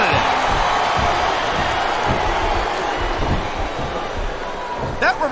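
A capacity arena crowd roars and cheers in the wrestling video game SVR 2007, a dense, steady wash of noise with a few thumps underneath, loud and continuous throughout.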